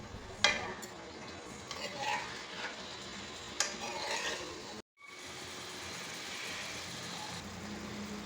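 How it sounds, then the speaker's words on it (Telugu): Prawns coated in salt and turmeric fry quietly in hot oil, with a few sharp clinks of stirring on the pan before a soft, continuous sizzle settles in. "మనం ఫస్ట్ ఉప్పు పసుపు వేసిన ప్రాన్స్ని ఆయిల్లో వేసేసుకుందాం"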